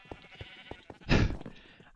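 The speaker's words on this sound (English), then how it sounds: "Gotta see these sheep. Bunch of red sheep." Sheep bleat in a blocky sandbox video game, one loud close bleat standing out over soft ambient game sounds and light clicks, with no talking.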